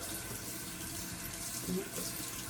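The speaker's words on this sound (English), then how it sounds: "I'm going to turn the water on to get the warm water ready" A bathroom tap running warm water into a sink, a steady close hiss of flowing water at low level, continuous and unbroken.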